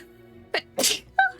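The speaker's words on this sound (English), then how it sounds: "I'm so sorry, I sneezed on you guys" A single close, sharp human sneeze bursts out in a quiet room, preceded by a short intake of breath and followed by a brief tonal trailing sound.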